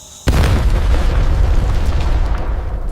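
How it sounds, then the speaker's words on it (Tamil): A gas cylinder blows up from a gas leak: one sudden, very loud boom that swells at once into a sustained, heavy roar and rumble lasting for seconds, with no voices. "கேஸ் கசிவு காரணமாக சிலிண்டர் வெடித்து இளம் வழக்கறிஞர் பரிதாப பலி."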